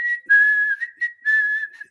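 A person whistles a tune, a clear bright melodic line in short phrases with brief gaps, close and alone.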